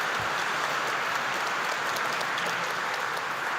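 Audience applause fills a civic inauguration ceremony for an Auckland governing body, a steady, dense wash of clapping from a large crowd that holds evenly throughout without pause.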